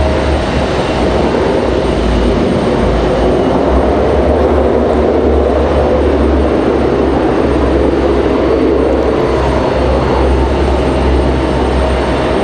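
A FedEx feeder aircraft at Raleigh-Durham International Airport gives off a steady, loud engine roar with a deep low rumble that holds evenly for the whole stretch, with no voices.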